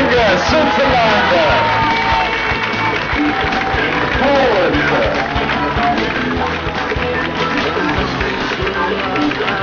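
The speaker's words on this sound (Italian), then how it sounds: "fate un applauso" Crowd applause and cheering for a finisher at the IRONMAN 70.3 Pescara triathlon in Italy, a steady, dense roar of clapping and shouts that keeps going under an announcer's voice.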